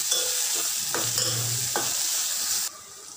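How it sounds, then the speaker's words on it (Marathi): Finely chopped coriander leaves frying in oil, a loud dense sizzle with a few spoon scrapes as they are stirred, dropping in level near the end. "आता ही कोथिंबीरही छान अशी बारीक केलेली तेलात भाजून घ्यायची, छान असं हलवायचं"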